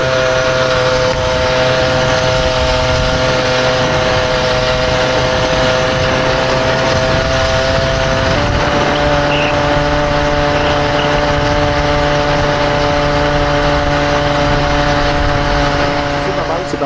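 A Peugeot 103 moped with a reduced carburetor jet drones steadily and loudly as it accelerates, its engine tone holding a sustained buzzing hum that shifts pitch about halfway through.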